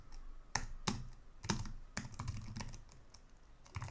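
Code is typed on a computer keyboard in a quiet room: a handful of separate, fairly crisp key presses followed by a quicker run of softer taps, all close and fairly faint.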